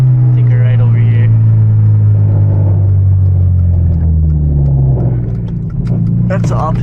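Manual Hyundai Genesis Coupe with a loud aftermarket exhaust driving at night, its deep engine drone and rumble steady and close throughout, shifting pitch as it pulls and eases off, with a brief lull near the end.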